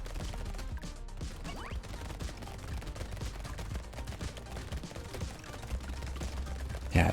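A minigun fires nonstop in the video game Brotato, a rapid, dense rattle of shots over busy game effects and low rumbling impacts. Near the end a brief louder burst stands out.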